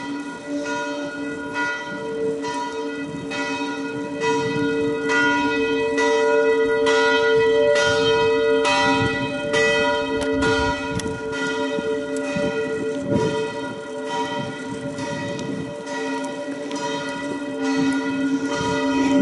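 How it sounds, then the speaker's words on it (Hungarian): Church tower bells ringing at noon in a Hungarian village, steady repeated strokes with a full ringing hum, loud and continuous. "Ha minden igaz, és jól megy a torony órája, meg a harangok."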